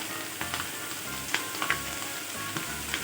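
Minced pork sizzles and fries in a pan as a little oil is added to the centre while cooking stir-fried holy basil pork, a steady crackling hiss with brief sharper pops and stirring scrapes, close and without talk.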